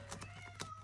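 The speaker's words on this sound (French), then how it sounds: "vous allez entendre les bébés chats" Kittens meowing in a few short, faint cries spread across under a second, over a steady low hum.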